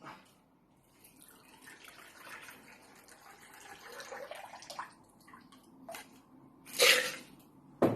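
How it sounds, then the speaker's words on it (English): Lime daiquiri cocktail poured into a glass: a soft liquid trickle that builds over several seconds, followed by a brighter splash and clink near the end, with no talk. "So then pour it into your glass."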